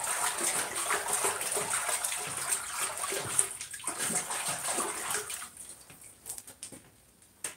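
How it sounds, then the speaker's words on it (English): Hot bronze-coloured metal plunged into water gives a steady watery rush and sizzle that gradually thins out and fades, with a faint knock at the very end. "Now I'm just going to quench it in water."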